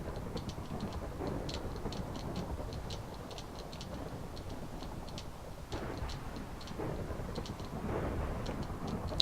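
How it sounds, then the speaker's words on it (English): A thunder and lightning storm in the Minecraft video game rumbles on steadily, with a low continuous roar beneath repeated faint ticking sounds, and no voices are heard. "That's a lot of thunder and lightning."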